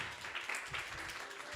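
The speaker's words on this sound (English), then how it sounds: "Please give them an applause." An audience at a children's annual day and graduation celebration gives dense, steady applause for a few seconds. The clapping sounds moderately distant and fills the room.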